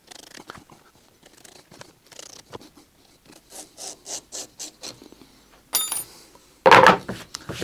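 Trimming excess upholstery material on a Land Rover Defender centre console, with soft rubbing and scratchy cutting strokes that end in a couple of louder, sharper bursts of close-up scraping.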